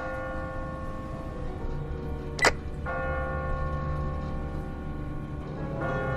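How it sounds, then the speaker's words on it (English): A church bell tolls in The Walking Dead game, ringing a sustained ringing tone that hangs over a low ambient hum, with a sharp crack midway through. "Ask not for whom the bell tolls."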